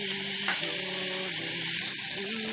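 Soaked lentils for polau dal sizzle steadily in a hot pan over high heat, with stirring scrapes breaking through the continuous frying hiss, close and fairly loud.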